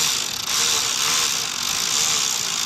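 Rapid ratcheting clicks of a tool tightening throttle body screws on a Ford Focus engine, a continuous close mechanical rattle over a short burst.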